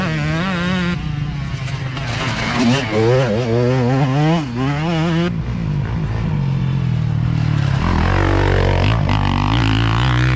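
A motocross bike on a muddy track accelerates hard up a hill, its engine revving loud and close with rising, wavering pitch before easing off near the end.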